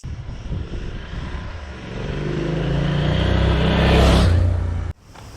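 A QJmotor SRT 800 SX twin-cylinder motorcycle engine revs up in a rising, loud, buzzing roar that builds for several seconds, then cuts off abruptly before settling to a lower idle.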